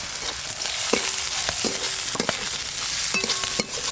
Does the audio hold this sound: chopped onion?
yes